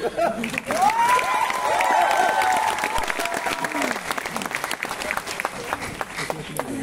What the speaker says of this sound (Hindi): फिर भी ताली तो बनती है।